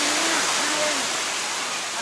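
Sai Yok waterfall in Thailand pours down in a loud, constant broadband rush that stays steady throughout, with a voice briefly audible beneath the roar.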